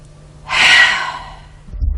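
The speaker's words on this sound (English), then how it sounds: "If you're breathing like this," One sharp, breathy intake of air, a quick gasping inhale shown as a demonstration of incorrect shallow shoulder breathing, close and alone, followed by a low rumble.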